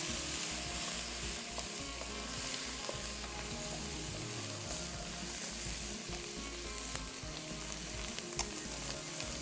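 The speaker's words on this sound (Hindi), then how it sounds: "और उनको अच्छे तरीके से आपने सौते करना है।" Carrots, cabbage, mushrooms and boiled peas sauté in a hot pan for a tandoori chow mein, giving a constant loud sizzle with faint stirring scrapes and no talking.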